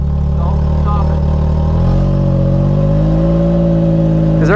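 A car engine rumbles steadily at idle and then revs a little as it is shifted into drive, sustained and close, with a faint whine near the end.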